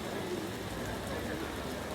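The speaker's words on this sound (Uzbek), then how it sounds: "Yomg'ir yomon yog'yordi lekin." Heavy rain falling outdoors in a city, a dense steady patter across the whole span, fairly close and even, with no clear speech.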